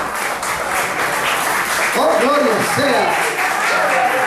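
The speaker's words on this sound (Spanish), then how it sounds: "¿Cuántos dan un aplauso fuerte a Jesús?" A church congregation claps loudly in a steady, dense wash of applause, with voices calling out and singing over it partway through.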